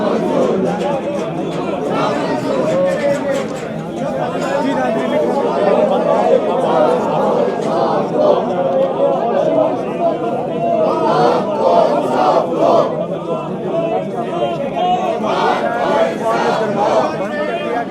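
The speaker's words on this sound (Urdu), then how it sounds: "اپوزیشن اراکین جو ہیں وہ پارلیمنٹ کے تالا لگے گیٹ کے اندر سے نعرہ بازی کر رہے ہیں" Opposition lawmakers chant slogans from behind a locked parliament gate, a crowd of voices shouting in rhythmic, continuous waves with background chatter, sustained and loud throughout.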